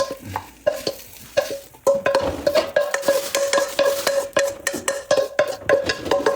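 Eggs and tomatoes stir-fried in a pan, with a steady sizzle under repeated loud scraping and clattering strokes of a utensil against the pan, close and continuous with no talk.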